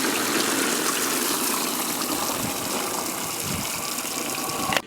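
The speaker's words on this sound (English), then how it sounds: "new water supply has been installed in the water feature. Looks like it's all running pretty nice right now." A rain curtain water feature runs on a newly installed water supply, giving a steady, full hiss of falling and splashing water that holds constant and close throughout.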